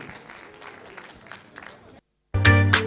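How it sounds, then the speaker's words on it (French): Audience applause at a televised Faso Academy quarter-final in Burkina Faso, with a broad, steady clatter of clapping for two seconds that cuts to silence, then a loud burst of music and sound. "Applaudissements bien nourris."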